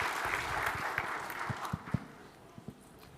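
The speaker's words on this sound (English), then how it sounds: "Give them one more clap" Applause from an audience at a conference session on data, identity and payments, fairly quiet and distant, tapering off into a few scattered, isolated claps near the end.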